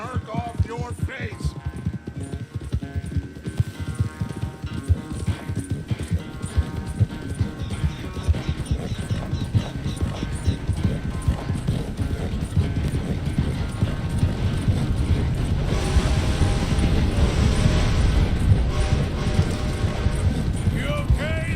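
Horse hooves clip-clopping in Red Dead Redemption 2, a steady rapid rhythm of hoof falls continuing throughout, close and fairly loud, growing heavier toward the end over a low rumbling ambience.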